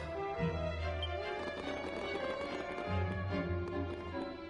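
Horses' hooves clip-clop in a steady trotting rhythm as they arrive in the video game Dragon Quest VII, backed by a layered music score.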